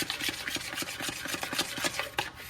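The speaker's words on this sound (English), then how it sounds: "I'm just going to do it with a spoon now" Dough for gluten-free flatbread being stirred with a spoon, giving a steady run of close scraping, rubbing strokes in an uneven rhythm with no talk.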